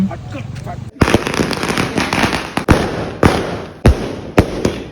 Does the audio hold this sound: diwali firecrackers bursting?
yes